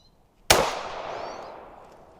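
A single sharp gunshot from a 10mm Norma or 45 Super handload rings out, loud and close, then its echo decays slowly over the next second and a half with no talking.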